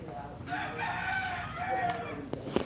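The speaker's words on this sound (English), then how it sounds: "The rooster's out." A single rooster crow, fairly clear and close, stretching across most of the moment outdoors as a tropical storm passes through a beach town.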